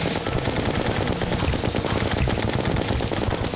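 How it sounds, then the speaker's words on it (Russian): Rapid continuous gunfire from chlorophyte bullets in the video game Terraria, a loud dense rattle of shots with no pause across the whole stretch. "Хлорофитовые патроны."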